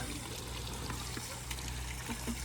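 Water pours steadily into a bucket and a jerrycan at a rural spot, a continuous trickling, splashing stream at moderate level with a low background hum throughout.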